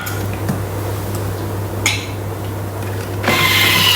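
A Thermomix cooking custard for Portuguese custard tarts at 90 degrees on speed 4: a constant low motor hum with faint rubbing and clicks, swelling into a louder whirring near the end.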